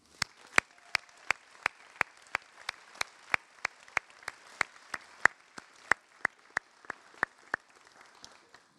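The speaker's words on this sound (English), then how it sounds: "let's just give a round of applause to all of our seniors who were recognized with special awards this year" Sparse, regular claps sound one at a time at a steady pace, faint and thin, like a small handful of people applauding seniors at a school graduation celebration, with no voices over them.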